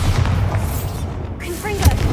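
In the video game Hogwarts Legacy, the Bombarda spell sets off a loud, close booming blast with rumbling debris, followed by a softer clatter of mechanisms and spell effects.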